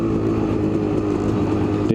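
A Kawasaki KDX250 enduro motorcycle engine revs hard while being ridden, a loud, close, sustained two-stroke buzz with a steady high pitch throughout.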